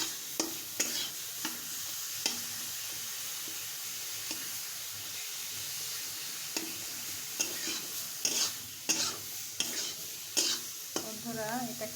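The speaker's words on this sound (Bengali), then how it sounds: "এখন এটাকে আমি সুন্দর করে ভেজে নেব" Drumstick leaf stems fry in hot oil with a steady soft sizzle, while a spatula stirs and scrapes the pan in occasional sharp knocks, close by and without speech.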